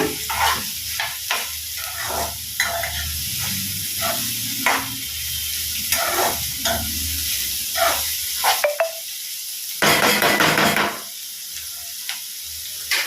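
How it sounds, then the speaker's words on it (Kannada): Vegetables frying in hot oil in a pan for egg fried rice, a steady close sizzle broken by scraping stirs and clattering spatula strokes, with a louder hissing burst near the end, no talk. "ಕ್ಲೀನಾಗಿ ಈ ಆಯಿಲಲ್ಲೇ ಇದನ್ನು ಫ್ರೈ ಮಾಡೋಣ"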